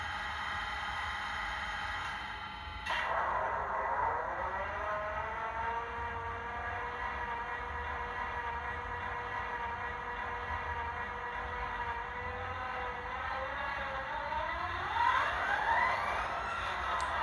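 A steady diesel locomotive engine drone with a rising whine from an HO-scale model train's DCC sound decoder starts suddenly and runs continuously, tones slowly shifting in pitch, moderately loud and close, with no voices.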